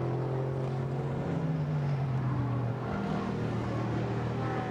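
A GT1 race car engine holds a steady, droning note on a flying qualifying lap, downshifting to third gear into turn one, heard at a distance and loud throughout with no talk.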